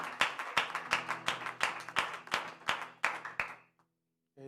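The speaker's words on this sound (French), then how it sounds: "Let's clap our hand for the Lord Jesus Christ." Church congregation clapping hands in praise, a loud, regular rhythmic beat of about a dozen sharp unison claps over a sustained musical tone, ending abruptly before a brief silence.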